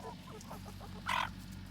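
Chickens clucking as they eat pumpkin, with a short louder burst of fowl calls in the middle of a quieter stretch of softer clucks and scratching.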